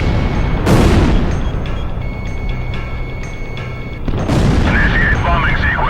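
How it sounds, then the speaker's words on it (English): Bombs exploding in the video game Ace Combat Zero: The Belkan War during a bombing run, two loud booming blasts with a steady jet drone and radio tones between them. "They're just tossing bombs all over the place."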